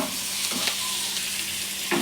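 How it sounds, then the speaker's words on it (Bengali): Onion and chicken frying in a pan over medium heat for a masala chicken fry, with a steady close hiss and crackle of oil and a few brief stirring scrapes throughout. "মিডিয়াম আঁচে আমি এটাকে ভাজা ভাজা করবো।"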